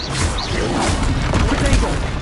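Confringo blasting spell explosions in Hogwarts Legacy, a steady dense roar of booms and crackling blasts, loud and close throughout, with spell-casting voices mixed in.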